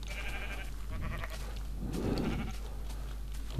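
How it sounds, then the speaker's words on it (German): Sheep bleating in the Minecraft video game, a few short nasal bleats at moderate loudness, alone without talk. "Wow, ein schwarzes Schaf."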